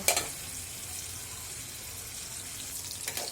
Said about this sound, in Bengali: পেঁয়াজটা ভেজে নিচ্ছি লাল লাল করবো